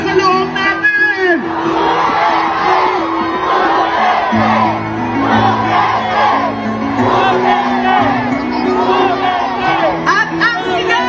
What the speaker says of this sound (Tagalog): isigaw na natin ang nasa loob natin!